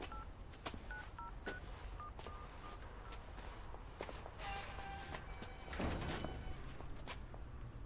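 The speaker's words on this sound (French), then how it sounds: "Allez, je l'appelle." A telephone number is dialed as a quick series of touch-tone beeps, several short tones in uneven succession, followed by soft thuds and movement in the room.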